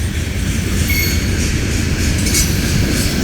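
A Norfolk Southern freight train rolls past at Gaffney, South Carolina, a loud, steady rumble of wheels and cars with faint metallic squeals and clinks riding on top, sustained close by with no voices.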